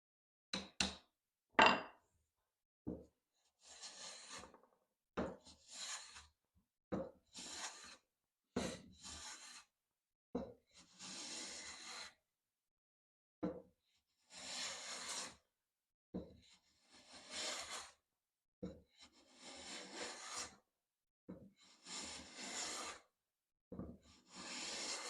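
A hand plane smoothing a board in a series of separate strokes, each a soft rasping hiss of a fine shaving, with short pauses between passes; close and fairly quiet, with no talk.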